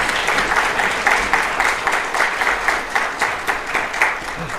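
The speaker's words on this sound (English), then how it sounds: "Please give a round of applause for Fred Wilson." An audience applauds Fred Wilson's introduction with a dense, lively round of clapping that is loud and steady across the whole stretch, with no speech on top.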